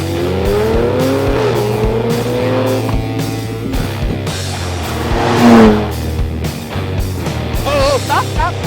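Pickup truck pulling away hard, its engine revving and tires squealing up close as heard from the back of the truck bed, with brief voices in the mix.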